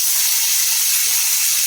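Fresh coriander with dried chillies and unpeeled whole garlic sautés in a pan as a loud, constant sizzling hiss that fills the whole moment without a break.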